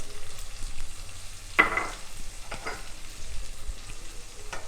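Pork ribs frying in a pan with garlic, ginger and turmeric powder give a steady close sizzle, stirred throughout, with a sharper burst of sizzling about a third of the way in.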